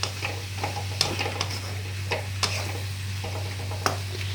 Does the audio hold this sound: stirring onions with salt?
yes